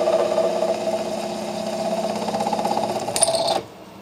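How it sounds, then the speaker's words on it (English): A 13mm carbide ball end milling cutter cuts metal for a DIY gas turbine flame tube, giving a steady buzzing machining drone with a rhythmic flutter that runs loud for over three seconds, then shifts pitch briefly before stopping abruptly. "I've got a 13mm ball end milling cutter here, a carbide one"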